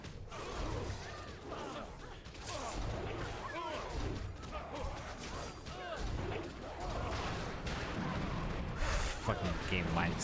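Rebel cannons firing in a video game battle, a busy, muffled stream of booms and mechanical clatter mixed with distant gunfire, steady and fairly faint throughout.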